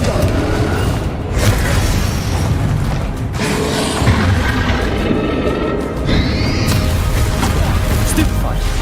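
A Confringo fire spell from Hogwarts Legacy blasts in loud, booming bursts during a video game duel, with shouted voices amid the steady roar of combat.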